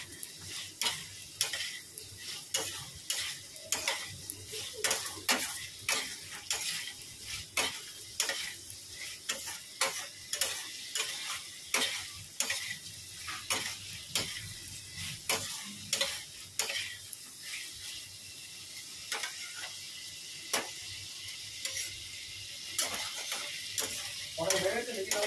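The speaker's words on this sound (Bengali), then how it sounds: "সব মশলা দেওয়া হয়ে গেছে, এবার ভালো করে কষাবো।" Spiced water lily curry fries in a pan while a spatula stirs it in a steady rhythm of scrapes and taps. A continuous sizzle runs underneath, close and fairly loud throughout.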